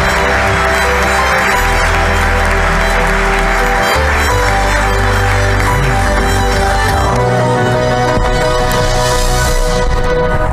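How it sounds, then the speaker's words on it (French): Loud, sustained audience applause fills a large hall at an HEC Alumni general assembly, welcoming the president of the Paris Chamber of Commerce and Industry to the stage, with music playing underneath throughout. "je vous demande d'accueillir avec beaucoup d'applaudissements Dominique Restineau"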